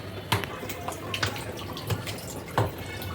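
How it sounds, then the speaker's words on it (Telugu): Water is poured over grains in a bowl to soak for dosa batter, producing soft, intermittent splashes and trickles at close range, a few separate pours spaced across a quiet background. "కొన్ని వాటర్ పోసుకుని ఒక టెన్ మినిట్స్ నానబెట్టుకుందాం"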